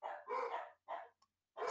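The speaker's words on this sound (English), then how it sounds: "I can hear the dog start barking in the background." A dog barks in the background, a few clear barks in quick succession, moderately close and loud, with no talk over them.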